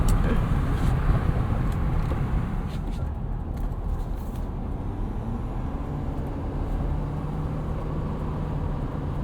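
A 2017 Ford F-250 Super Duty King Ranch drives under a bridge, its exhaust a steady, deep rumble with broadband road noise. The sound stays even and continuous throughout, heard from inside the cab.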